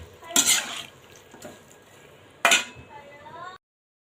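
Onions being stirred in a pan as they fry brown for a mutton biryani, with two loud scraping clinks of a utensil against the metal and a faint sizzle running between them.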